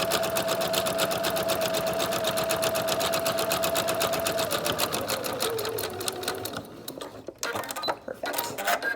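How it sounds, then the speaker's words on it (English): A sewing machine stitches along the bottom edge of a fabric face mask with a filter pocket and elastics, running in a steady rapid whir for several seconds, then slowing to a stop followed by a few handling clicks. "we're just going to go ahead and sew along the bottom side now of our fabric"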